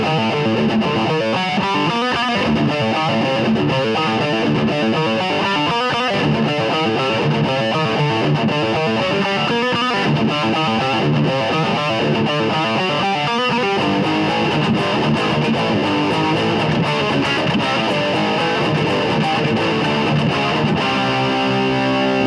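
Gibson Les Paul Classic electric guitar played through distortion with a 20 dB boost, loud sustained chords and riffs with a thick saturated tone, continuing alone without talk.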